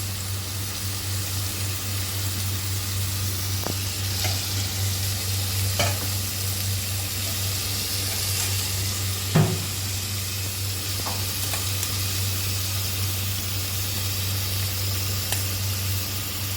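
Curd is stirred into chicken biryani in a pressure cooker over a lowered flame, with a soft continuous sizzle and steam hiss, a low steady hum beneath, and occasional spoon scrapes and knocks.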